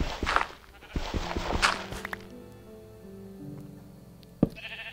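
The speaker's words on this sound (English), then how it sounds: "There's a sheep down here." Sheep in the Minecraft video game bleat twice in a row near the start, loud and close, followed by blocky game footsteps and soft in-game tones with no talking.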